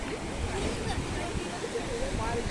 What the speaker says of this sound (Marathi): आणि ह्या लाटा आता इथे आदळणार आहेत